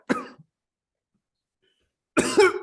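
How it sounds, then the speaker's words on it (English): A man seated at a table chokes on a sip of water and coughs, one short sputtering burst followed after a pause by a harder, longer fit of coughing, close and fairly loud. "it's like water sputters, coughs"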